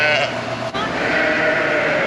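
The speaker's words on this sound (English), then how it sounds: "Here's a lamb." A lamb bleats loudly and close by on a farm during lambing, a drawn-out wavering cry filling the moment.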